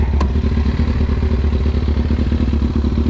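A 2002 Kawasaki Ninja ZX6R engine runs steadily up close, a loud, dense rumble with rapid clattering pulses throughout, no talking over it.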